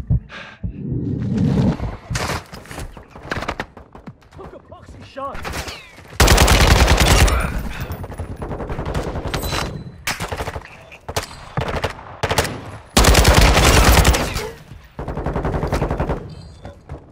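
Rapid gunfire from the Call of Duty Modern Warfare 2 video game: loud, sustained automatic bursts and single shots crackle almost nonstop, with scattered in-game voice callouts among the shooting.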